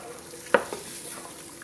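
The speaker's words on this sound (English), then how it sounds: "Give that a stir." Homestead chili being stirred in a pot: a single sharp clink of a spoon against the pot and a softer follow-up scrape over a low background hiss, close and brief.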